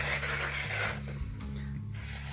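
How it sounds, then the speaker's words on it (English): A low, steady mechanical hum with a soft swishing rumble, like a washing machine running in another room, faint and continuous. "you might hear the washing machine in the background"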